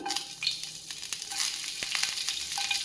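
Chopped green chilies hit hot oil in a pan for a quick masala Maggi, giving a steady close sizzle with crackling pops throughout, no voice over it.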